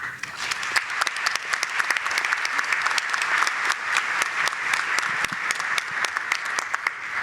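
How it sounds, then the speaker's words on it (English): A breakfast-event audience gives a warm, continuous round of applause as a speaker walks up to the podium, many hands clapping steadily at close range with a few individual claps standing out. "Please give a warm round of applause as he approaches the microphone"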